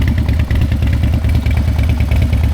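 A Harley-Davidson motorcycle engine idles up close, loud with a steady, rapid lumpy beat and no pauses.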